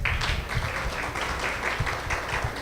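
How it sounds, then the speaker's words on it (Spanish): Applause from an audience at a school session on restorative practices, honoring female presenters: a steady, moderate wash of claps with irregular louder slaps, fairly even throughout and no speech over it. "Un aplauso fuerte para ellas."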